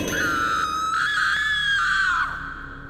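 A girl screams loudly in one long, sustained, high-pitched shriek after throwing her plate of food, holding steady before trailing off, with no other voices.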